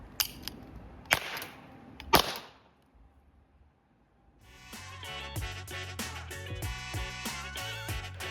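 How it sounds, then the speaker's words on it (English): A 3D-printed cap gun fires three sharp, loud cracks about a second apart, then quiet, before music starts. "it's time to test fire the cap gun"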